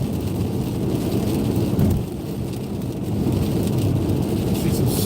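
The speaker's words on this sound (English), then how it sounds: "and we are at all rain now." Steady rain falls near Issaquah after a snowy drive down from Snoqualmie Pass, a dense, constant wash of patter heard around a car, with a brief dip in loudness near the middle.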